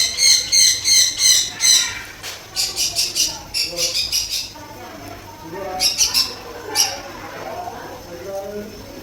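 At Cherai beach a bird squawks loudly and repeatedly while pecking at food, its harsh cries coming in quick bursts close by, with people talking in the background.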